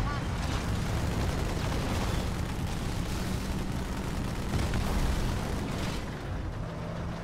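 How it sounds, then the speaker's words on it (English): In a Halo game, a Wraith bomb blast amid heavy combat: a sustained rumbling, booming barrage of explosions and weapon fire that stays loud throughout before easing slightly near the end, with faint voice underneath. "That's a Wraith Bomb. Yeah, that is a Wraith Bomb."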